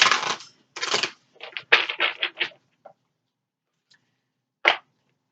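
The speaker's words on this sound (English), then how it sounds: "So we'll give it 2 shuffles here." Oracle cards being shuffled by hand, with two bursts of crisp riffling followed by a quick run of snapping card flicks, then near silence broken by one last sharp slap of the deck.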